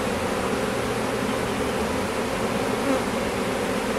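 A dense bee swarm buzzing around a hive, a steady close hum with no breaks and no voices.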